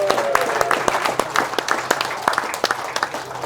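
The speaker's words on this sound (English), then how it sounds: "so let's have a wee cheer for Willie and hope that he gets well soon." An outdoor crowd at the Drumlanrig Castle offroad festival applauds, dense overlapping claps rising and falling unevenly with a few sharp nearby hand claps, and faint voices under the clapping.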